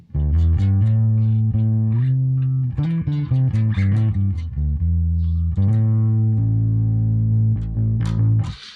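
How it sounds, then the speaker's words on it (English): Bass guitar played through warm, gritty tube-style overdrive with a compressor, a run of notes and sustained tones with rich harmonic distortion, loud and close. "you get that lovely sort of warm tube type distortion there, a lot of sort of harmonic distortion"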